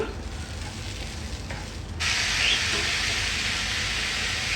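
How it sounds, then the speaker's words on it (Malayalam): Basmati rice being stirred in a pot while making chicken biryani, giving a continuous soft sizzling hiss with faint scraping that grows slightly louder and brighter partway through, close up and without speech. "ഈ അരി ഒന്ന് ചെറുതായി ഒന്ന് ബലം കിട്ടുന്ന വരെ നമുക്ക് ഒരു 3 മിനിറ്റോളം ഇളക്കി കൊടുക്കാം"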